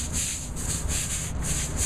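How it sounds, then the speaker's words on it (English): Push broom bristles scrubbing a soapy flat roof surface during prep for elastomeric coating, a steady close-up rubbing swish with regular back-and-forth strokes and no voices. "then we'll just scrub it a little bit with one of the push brooms"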